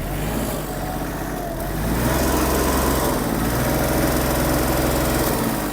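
The small diesel engine of a Kubota GL-29 mini tractor, a 1500 cc D1503, runs loudly and steadily, a continuous chugging rumble that picks up slightly partway through.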